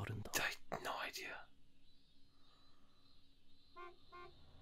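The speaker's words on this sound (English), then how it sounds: "Honk." Two short car horn toots sound near the end after a brief stretch of voices, fairly faint and quick in succession.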